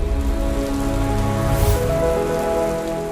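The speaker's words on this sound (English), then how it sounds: "Heavy rain and hail halted the Celebrity Pro-Am." Heavy rain pours steadily at a golf tournament, a dense continuous hiss of drops pounding surfaces with a low rumbling undertone, loud and unbroken throughout with no voices.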